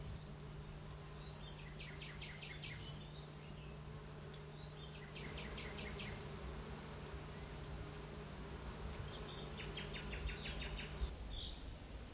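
A steady, low buzz from a swarm of honeybees on wax combs drones throughout, with faint bird chirps flickering above it in short bursts.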